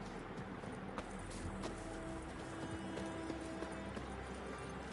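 Hoofbeats of Roach, Geralt's horse in The Witcher 3, galloping in a steady, quick rhythm, faint and low in level under a constant background hiss.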